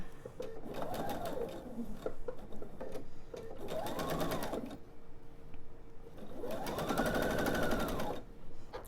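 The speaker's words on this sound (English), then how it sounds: "So I'm gonna just sew this 1/4 of an inch" A sewing machine stitches a quarter-inch seam while piecing a quilted table topper. It runs in three close, steady bursts of motorised stitching with short pauses between them.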